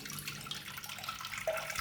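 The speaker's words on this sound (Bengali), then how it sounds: "দুধ জাল দেওয়ার আগে সবসময় সসপ্যানটা একটু জল দিয়ে ধুয়ে নিও" Water runs briefly while a saucepan is rinsed before milk is heated, a soft, faint splashing and trickling that lasts under two seconds.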